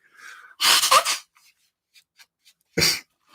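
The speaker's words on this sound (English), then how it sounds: "I don't know why I got the sneezes here tonight." A single loud sneeze bursts out, followed by a short quiet stretch and then a second sharp sneeze or snort.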